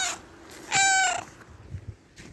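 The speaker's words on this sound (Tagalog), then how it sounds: "Meow. Meow." A cat gives one clear, close meow in the middle, with light rustling and soft movement noises before and after.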